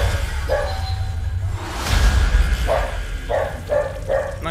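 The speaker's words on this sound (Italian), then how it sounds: "Scusate per il rumore di sottofondo, ma ci sono i cani e non ci posso far niente." Dogs bark in short repeated yaps in the background, several spaced barks near the end over a busy bed of film sound effects and whooshes.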